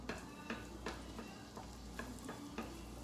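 Garlic fries in a pan for a gnocchi bake, a soft steady sizzle broken by a spoon stirring and scraping at regular intervals, close and quiet with no talking.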